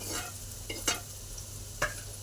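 Cucumber pieces tossed into a dry pan and stirred for a Telugu cucumber chutney, giving a few soft scraping stirs and a light sizzle over a low steady hiss, close and without talk.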